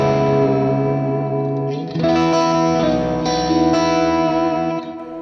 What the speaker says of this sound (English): Let's do a spring on this side since that's the only thing available to us.